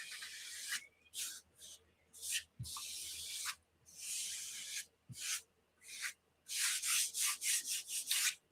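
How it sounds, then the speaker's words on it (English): Paper on a soft, rounded junk journal spine is burnished down with a series of close, dry rubbing strokes, some long and some short and quick, separated by brief silences. "I'm just going to burnish that down a little bit"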